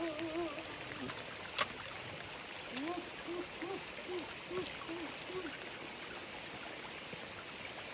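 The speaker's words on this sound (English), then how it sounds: "First water crossing." Steady broadband rush of stream water at an Appalachian Trail water crossing, constant and fairly close, with a faint voice murmuring briefly beneath it.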